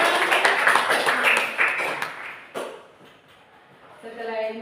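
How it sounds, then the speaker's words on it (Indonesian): A school class claps hands for a teacher in a dense burst of applause that fades out, followed by a sharp tap and then a quiet pause. "tepuk tangan dulu."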